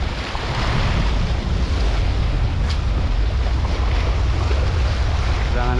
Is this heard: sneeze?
no